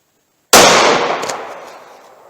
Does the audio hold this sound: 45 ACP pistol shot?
yes